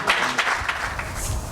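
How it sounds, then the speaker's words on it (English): Audience applause following a speech at a valedictory conference session, a short burst of steady clapping from a crowd in a hall. "I think it deserves a second round of applause"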